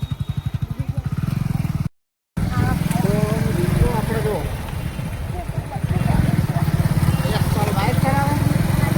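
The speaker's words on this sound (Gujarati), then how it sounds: "બાઇક ચલાવે" A motorcycle engine running steadily while being ridden, close and loud, its rhythmic putter continuing throughout as people talk over it.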